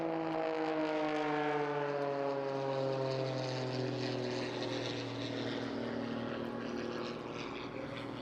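A biplane at an airshow flies past with a loud, steady propeller-engine drone, its pitch sliding gently downward as it passes.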